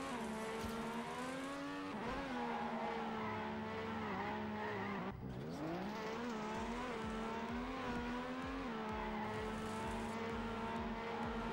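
A car drifts in a racing video game, its engine droning at a steady high pitch while sliding tires wail, the tone dipping sharply midway then climbing back and holding, loud and continuous with no talk.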